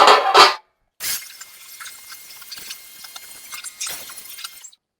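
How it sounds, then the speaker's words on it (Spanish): Water tipped out of a split air conditioner's condenser unit after cleaning, giving splashing, trickling pours with a couple of louder gushes, fairly close. "vamos también a tirar el agua aquí, dejarle limpio"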